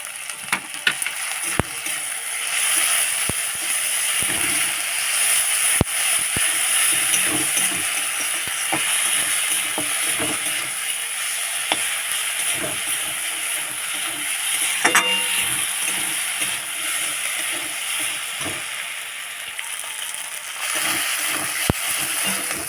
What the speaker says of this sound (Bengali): এবারে দিয়ে দেবো আদা রসুনের পেস্ট